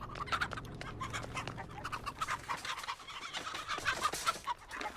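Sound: chicken clucking in the video game Texas Chain Saw Massacre

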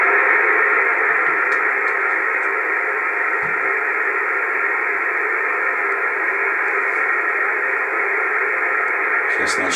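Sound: radio station broadcast received on anti-noise antenna

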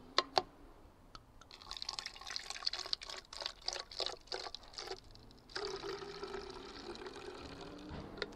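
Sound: pouring apple cider vinegar into a plastic bottle

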